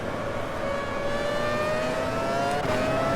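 A Formula 1 V10 car engine in the racing game AMS, F-V10 at Hockenheim 2001, drones at high revs with a steady rising whine, continuous and loud, with no talking.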